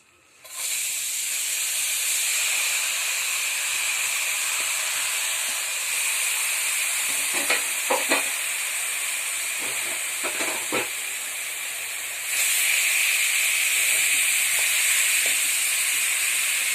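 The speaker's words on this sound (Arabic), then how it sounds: "نقلي شويه، نقلي بها الخضره ولا الشيء الاخر حتى طيب الخضر" Vegetables, including peppers and onion, fry in a pan for a flatbread filling. A loud, steady hiss of sizzling oil runs throughout, with a few faint clinks of stirring partway through.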